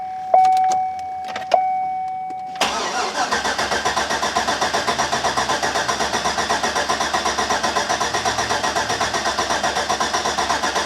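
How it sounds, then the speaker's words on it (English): A 2007 GMC Yukon with a 5.3 engine and its fuel pump relay pulled: a few clicks and chimes, then the starter kicks in and cranks steadily and rhythmically for many seconds without the engine catching, loud and close. "so let's see if this thing will even crank over"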